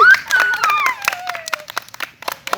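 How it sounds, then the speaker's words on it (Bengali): A round of hand clapping from a small group, scattered and uneven, with a high bright voice or whistle-like tone sweeping down at the start. "তাহলে অঙ্কুশের জন্য একটা হাততালি হবে না"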